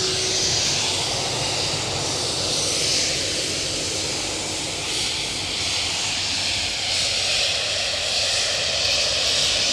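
A Ryanair jet bound for Gdansk roars at Edinburgh Airport, a loud, steady broadband engine rush that swells and eases slightly over several seconds, heard close with no voices.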